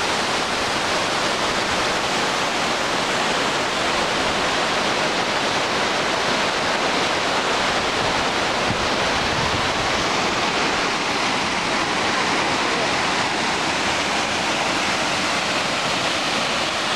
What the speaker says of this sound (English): Beautiful falls.